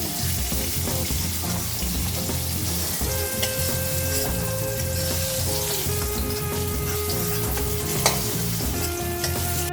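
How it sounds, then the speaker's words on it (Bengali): Steady sizzle of eggplant frying in oil, with scraping and stirring sounds and a constant low hum throughout, no talking. "বেগুনগুলোকে আমি একটু লাল লাল করে ভেজে"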